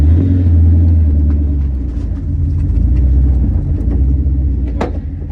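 A Ford Mustang Terminator Cobra with about 450 lb-ft of torque, a welded differential, a roll cage and no seats gives off a steady, loud, deep engine rumble from inside the car, with no talking.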